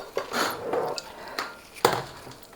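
A utensil scrapes and clinks against a bowl in a few quick bursts while cream cheese, sugar and butter are creamed together, fairly faint and uneven.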